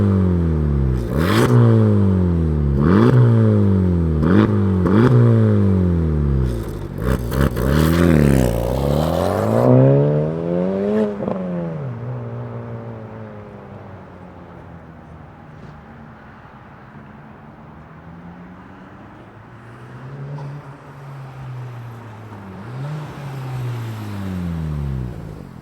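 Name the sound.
Honda Civic Type R FL5 titanium exhaust revving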